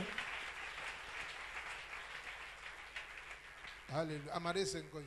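Congregation at a revival church service cheering and clapping in a steady, dense roar of applause, with a voice rising over the crowd near the end.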